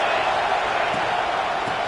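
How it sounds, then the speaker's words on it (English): A stadium crowd in a football video game produces a constant, fairly faint roar of many voices, a wide steady wash with no distinct cheers rising out of it. "This crowd trying to make life miserable for this offense."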